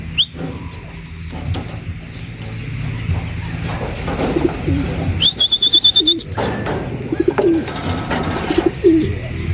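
Racing pigeons come home to the loft, with soft cooing and a few bright chirps close by. Light fluttering, knocks and handling noises run throughout.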